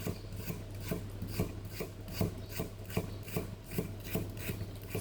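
Knife slicing lemongrass with a steady run of crisp, rasping cuts at a brisk even rhythm, fairly close, over a low constant background hum, with no talking.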